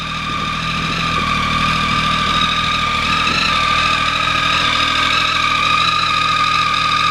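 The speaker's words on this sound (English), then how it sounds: "you can probably hear that characteristic whistle of the 3-cylinder engine there as well" A motorcycle engine idles steadily with a constant throb and a high, thin whistle layered over it, close and loud, with no voices.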